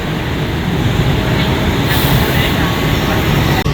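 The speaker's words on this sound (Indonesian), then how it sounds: "Ini yang KRL ke Jakarta Kota nih." KRL commuter train at Pasar Minggu station, a steady loud rumble and hiss of the train running along the platform throughout, with station ambience around it.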